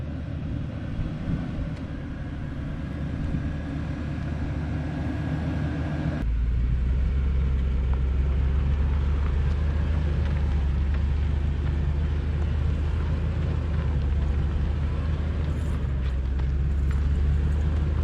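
A 2021 Lexus LX570 SUV on street tires climbing an off-road hill, a steady low engine rumble that swells and grows louder midway, heard from inside the cabin with no talk.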